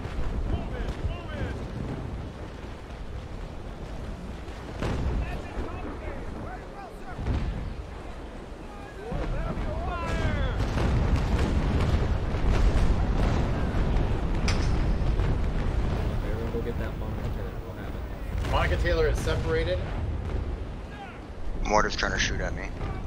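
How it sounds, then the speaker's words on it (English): Mortar fire and explosions in the naval combat game Naval Action, with booming blasts and rumbling impacts over a constant sea-and-wind backdrop, several sharp whistling shots near the end, and players talking over the noise. "Mortar's trying to shoot at me."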